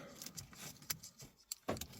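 A MINI F Series car is unlocked, giving a few sharp clicks and clunks with a jingle of keys, close by and with no talking.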